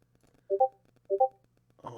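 A phone notification chime sounds twice during a livestream, each a short two-tone electronic alert about half a second apart, fairly clear over a quiet background, followed by a brief burst of speech.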